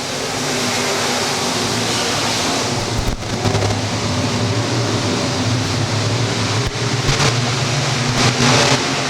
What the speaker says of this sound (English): As they come back around off of turn 4, green flag flies, we're back racing.